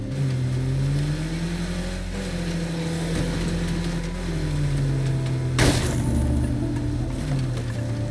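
A fast car with a full tank in the zombie survival game State of Decay 2, its engine droning steadily as it drives and shifting pitch through gear changes, with one sharp loud burst midway.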